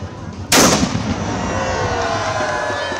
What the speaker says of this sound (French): c'est le coup de canon qui donne le départ du carnaval